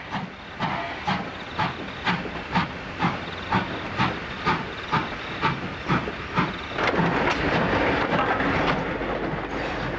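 NSW 59 class steam locomotive hauling an up goods train, with loud regular exhaust chuffs and hissing steam, then a sustained rushing hiss as it passes close by.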